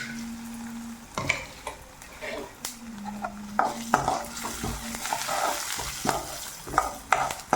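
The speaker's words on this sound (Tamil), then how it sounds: "கொஞ்சமாக ஆயில் விட்டுருக்கேங்க. இது எல்லாத்தையும் முதல்ல போட்டுக்கலாம். போட்டு வறுக்க ஆரம்பிக்கலாம்." Cloves and spices fry in a small amount of oil in a pan, giving a steady sizzle broken by scraping stirs and occasional clinks of a spoon against the metal.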